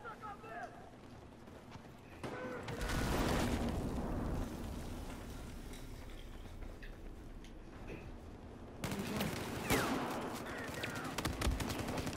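Shotgun fire from the Battlefield 4 video game comes in loud bursts of gunfire and explosions over continuous game noise, while players talk throughout.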